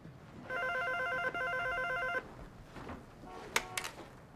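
A telephone rings with a steady electronic bell tone for about two seconds, then stops; faint room sounds and a few brief clicks follow, with no one talking.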